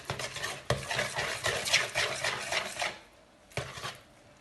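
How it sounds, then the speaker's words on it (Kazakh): Pancake batter with oil just poured in is stirred in a bowl: brisk, rhythmic scraping and wet swishing strokes, close and fairly loud, with two sharp clinks of the utensil against the bowl, then the stirring eases off near the end. "Араластырамыз."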